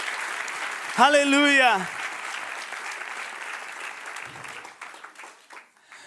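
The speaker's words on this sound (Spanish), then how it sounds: "Puedes darle un aplauso a Él" A church congregation applauds during a Spanish-language worship service, steady clapping throughout while a voice sings out a drawn exclamation over it, the clapping thinning toward the end.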